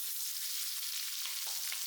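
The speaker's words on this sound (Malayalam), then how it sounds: "അത് ഓരോന്നായിട്ട് ഇട്ടിട്ട് നമുക്ക് വറുത്തെടുക്കാം" Pieces of kingfish sizzle steadily in hot oil in a small pan, a continuous close crackling hiss with a few louder spits and stirring sounds toward the end.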